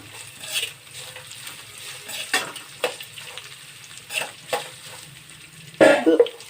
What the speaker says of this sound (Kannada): ಒಂದು ಎರಡು ನಿಮಿಷಗಳ ಕಾಲ ಚೆನ್ನಾಗಿ ನೀವು ಈ ಥರ ಮಿಕ್ಸ್ ಮಾಡ್ಕೊಳ್ಳಿ ಈರುಳ್ಳಿಯ ಬಣ್ಣ ಸಹ ಕೆಂಪುಗಾಗಬೇಕು